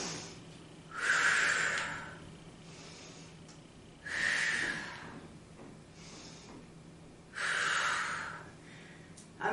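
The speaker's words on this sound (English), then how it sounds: "I've exaggerated the breathing because I want you to breathe with me" Exaggerated breathing accompanies a weighted chest press during a strength and balance workout: three slow, loud, airy breaths spaced a few seconds apart, each rising and fading, close to the mic with no talk.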